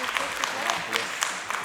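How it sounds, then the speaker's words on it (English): An audience applauds a speaker at a university-related event, a brief, steady burst of many hands clapping with a few louder individual claps standing out. "Let's give him a round of applause."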